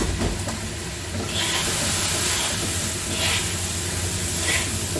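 Washed basmati rice stir-frying in a wok with fried shrimp, a loud continuous sizzling hiss with a few brief scraping spurts, close up and without talk.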